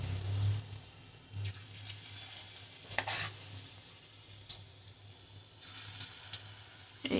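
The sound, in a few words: egg fritter batter frying in oil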